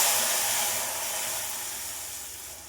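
Spice powders soaked in water (salt, turmeric, chilli, coriander and cumin) hit hot oil for a Bengali fish egg curry, giving a loud, bright sizzling hiss that fades gradually over a few seconds.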